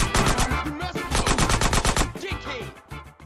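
CJ firing a gun in GTA San Andreas: quick bursts of loud, close shots in an uneven rhythm, tapering off toward the end, with a voice faintly underneath.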